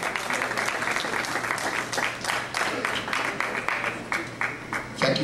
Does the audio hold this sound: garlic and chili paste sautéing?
no